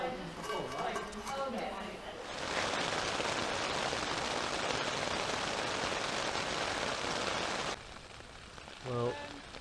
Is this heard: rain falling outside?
yes